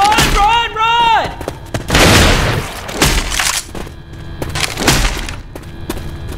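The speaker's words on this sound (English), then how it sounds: "Oh, you're shooting?" Gunfire in an online multiplayer shooter game, loud booming shots and bursts with crackling impacts and an electronic sweep sound, while players talk over the action.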